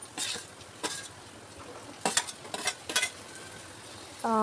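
Tomato pieces go into frying onions in a pan and are stirred, heard as a quiet sizzle under scattered scrapes and clatters of a spoon against the pan, with a brief tonal sound at the very end.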